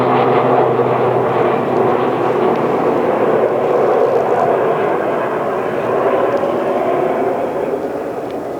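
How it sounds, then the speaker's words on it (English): A high-flying jet aircraft passes overhead, giving a loud, steady, broad roar that fades slightly toward the end. "And then there's a jet all the way up there too."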